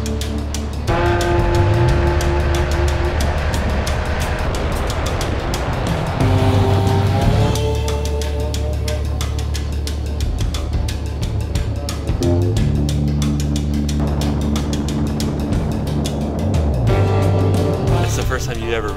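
Several Harley-Davidson Pan America adventure motorcycles roll out together toward Silverado Canyon in Orange County, California, their engines droning loud and steady with rising and falling revs as the bikes shift through gears.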